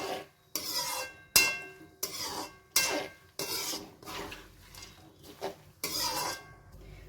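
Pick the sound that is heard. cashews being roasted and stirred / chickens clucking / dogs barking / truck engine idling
cashews being roasted and stirred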